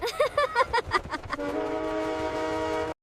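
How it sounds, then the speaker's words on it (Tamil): A long, steady train horn blares loudly for about a second and a half after a few brief rhythmic sounds, then cuts off abruptly. "சேவல் கூவறதுக்கு முன்னாடியே ரயில் தான் அலாரம் அடிச்சிடும்."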